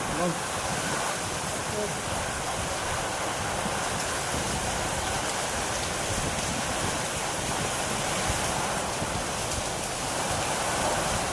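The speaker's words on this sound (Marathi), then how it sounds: "पाऊस आला पाऊस बघा" Steady heavy rain pours down with gusting wind during a Diwali-season storm, a dense continuous wash of noise that stays loud and unbroken throughout, with a voice briefly heard in the background.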